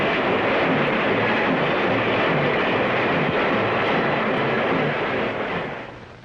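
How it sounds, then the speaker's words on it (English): A speeding freight train roars past, a loud, steady broadband rumble of engine and wheels that holds for most of the stretch before starting to fade at the end. "The speeding trains bear the strength of the nation."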